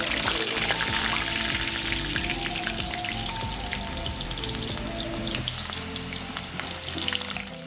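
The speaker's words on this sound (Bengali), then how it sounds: "এরপর আমি কেটে রাখা আলুগুলি খুব ভালো করে ভেজে নিচ্ছি" Cut potatoes fry hard in hot oil in a kadai, a dense, steady crackling sizzle with popping spatter running throughout, close and loud with no talking.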